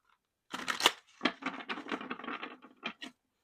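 Tarot cards being shuffled by hand, a close, quiet run of papery riffling and patter bursts with brief pauses.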